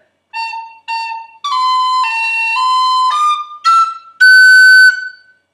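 Tin whistle plays a short phrase of the Irish tune The Connachtman's Rambles, clear bright notes with tongued and slurred articulation, a few separated notes then a sustained run ending on a long high note, close and alone.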